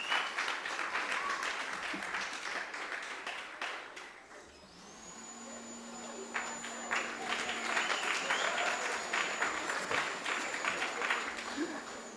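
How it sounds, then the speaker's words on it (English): Sustained audience applause fills the hall at a university vice-chancellor's distinguished awards ceremony, dense clapping that dips briefly midway before swelling again, with a faint tone and some background voices. "One more round of applause, ladies and gentlemen, for Dr. Madolo."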